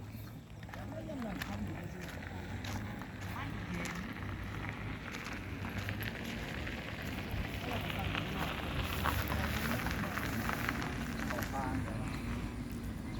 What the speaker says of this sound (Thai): บรรยากาศแลฝนมากเลยพี่น้อง